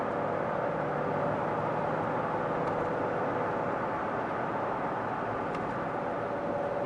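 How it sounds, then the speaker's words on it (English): Steady broadband tire roar from a Corvette Grand Sport's run-flat tires rolling on the road, heard from inside the car as a constant, even hum with no talking. "Whatever road noise we have, it's coming from the tires."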